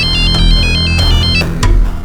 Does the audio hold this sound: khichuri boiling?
no